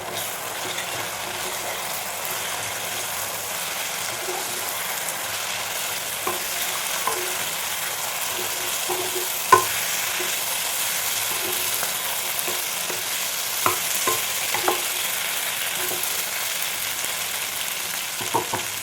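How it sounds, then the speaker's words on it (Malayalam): Fried soya chunks stir-fry in sauce in a pan with a soft, steady sizzle throughout and scattered clinks of a spoon against the pan, with no talk. "ഇനി നമുക്കിതിലേക്ക് വറുത്ത് വെച്ചിരിക്കുന്ന സോയ ചങ്ക്സ് ഇട്ട് കൊടുക്കാം."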